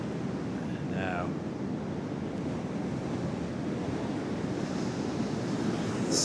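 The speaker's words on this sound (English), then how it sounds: "well, some quite big waves out there." Big sea waves roll onto the beach at Redcar on a blustery New Year's Eve, a steady broadband roar of surf with wind buffeting the microphone throughout; a brief voice or call is heard faintly near the start.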